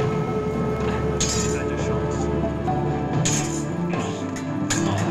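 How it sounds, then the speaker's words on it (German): Combat music from the video game Risen 2, a dense layered orchestral score playing steadily at full level with sharp accent hits and swells throughout, no voices over it. "sollen wir mal die Kampfmusik hier testen?"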